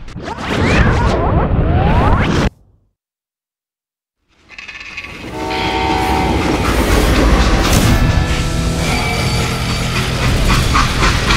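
A freight train in the Call of Juarez Gunslinger video game rumbles and clacks loudly and close, cuts to near silence for about two seconds, then rolls back in with heavy clatter and tonal squeals.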